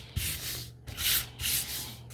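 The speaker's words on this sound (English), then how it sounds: "we're just going to quickly sand this" A wooden spindle Christmas tree sign is sanded by hand in three or four quick rasping strokes, close and fairly loud, each separated by brief pauses, with no talking.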